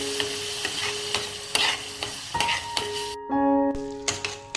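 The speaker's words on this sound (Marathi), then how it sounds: "छान या मसाल्यामध्ये हे दही मिक्स करून घ्यायचं" A spoon stirs yogurt into spiced masala in a pan for a drumstick fry, giving rhythmic scraping strokes over a low sizzle, then a short hiss burst near the end.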